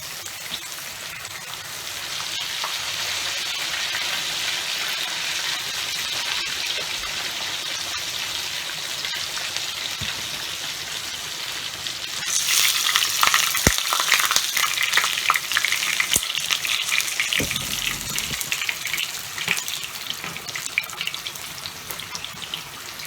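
Fish pieces frying in hot oil for Southern crunchy fried fish, a steady dense sizzle that grows louder and more crackling about halfway through, with occasional clanks of a utensil against the pan.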